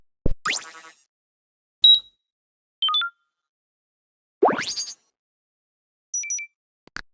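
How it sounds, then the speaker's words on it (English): Electronic sounds layer in adaptive game music: sparse synthetic blips, a few upward sweeping zaps and short two-note beeps separated by silence, crisp and close. "the second layer contains electronic sounds."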